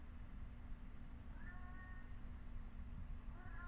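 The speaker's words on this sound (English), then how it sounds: "I finally hear the cat. It's meowing." Inside a clown-themed horror video game, a cat gives two thin, drawn-out meows, one midway and one near the end, over a low humming game ambience.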